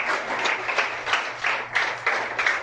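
A church congregation applauds in steady, rhythmic clapping bursts that fill the room, loud and close, with no speech over it.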